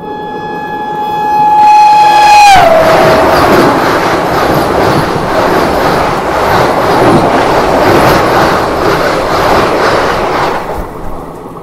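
The Mahananda Express, a passenger train, sounds a loud horn blast that slides down in pitch, then rolls on with a steady, heavy clatter and rumble for several seconds before easing slightly at the end.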